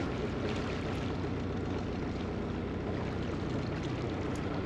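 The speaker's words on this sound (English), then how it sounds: "a lovely old vintage boat, chug, chug, chug, chug, chug" A vintage narrowboat's old engine gives a steady low chugging rumble on a canal, churning continuously, with a broad wash of water or wind noise over it; no voices.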